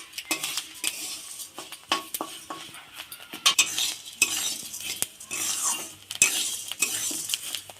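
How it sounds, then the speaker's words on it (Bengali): Raw rice is stirred and dry-fried in a pan, giving a steady scraping and rattling of grains against metal with repeated spoon knocks and a faint sizzle, close and without talk. "একটু ভালো করে সময় নিয়ে ভেজে নিতে হবে, বেশিক্ষণ লাগে না চাল ভাজতে"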